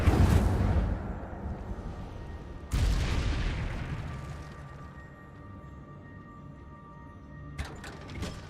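Incendio fire spell cast in Hogwarts Legacy: a loud fiery burst at the start, a second whooshing blast near three seconds that fades into a low rumbling roar, then faint crackles near the end.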